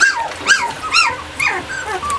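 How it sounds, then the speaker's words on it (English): Young puppies making soft high whimpering growls and yips in a close-up litter scene, four or five short rising-and-falling cries in quick succession, near and fairly loud. "we're having a growl party."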